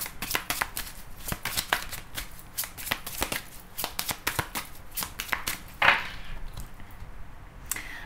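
Tarot cards shuffled close up in a rapid run of crisp, papery riffles and slaps, with one brief louder swish near the end and short pauses between bursts.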